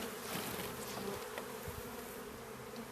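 A close, steady drone of many honey bees buzzing as they are shaken into a new splitter colony box, a dense humming swarm with no voices.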